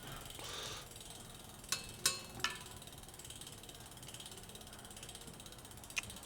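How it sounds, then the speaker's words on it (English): A bicycle's front derailleur with slack cable clicks and ticks faintly over a soft whirring drivetrain, with a few sharp metallic snaps as the chain fails to climb onto the big ring. "with no cable tension, the gears struggle to shift up into the big ring on the front"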